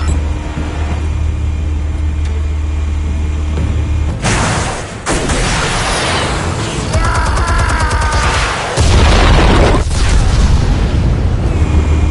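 Explosives detonating in a Batman PS4 video game: deep booming blasts and crackling debris over a constant low rumble, loud and close, with mechanical clatter between the bursts.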